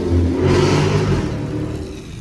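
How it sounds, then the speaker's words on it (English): A Dodge SRT 392 V8, a damaged car out on a dark night drive, revs loudly with a deep rumble that swells and then eases off, close and continuous for about two seconds with no talking. "Like, literally, the car sounds"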